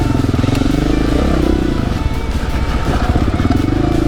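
A dirt bike rides hard enduro singletrack near Las Vegas, its engine snarling and revving close and loud without a break.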